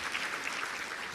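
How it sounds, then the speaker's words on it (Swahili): An audience at a Dodoma government ceremony applauds the President, an even, continuous patter of many hands clapping with no talk over it. "Piga makofi mengi sana kwa Mheshimiwa Rais tafadhali"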